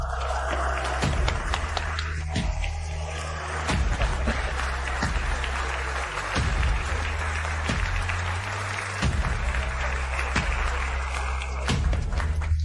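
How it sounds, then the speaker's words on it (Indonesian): An audience applauds steadily and loudly throughout, dense clapping with scattered heavier thumps and no talking. "tepuk tangan lebih meriah"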